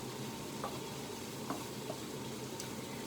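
Turkey pieces and vegetables fry together in one pan, a steady dense sizzle with a few faint stirring clicks, close up and with no voices.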